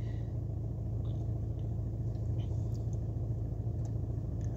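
An old car engine idles with a steady low rumbling throb and vibration as the clutch is released without accelerating, continuous and close, with faint higher sounds above.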